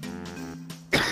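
A throat clearing with a short cough, close and fairly loud, breaks out in a single burst over game audio during a Modern Warfare 2 Search and Destroy match.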